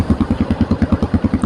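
A Shineray CXR 250 4V motorcycle idles close by, its engine and exhaust giving a quick, even, thumping pulse that stays steady and loud throughout.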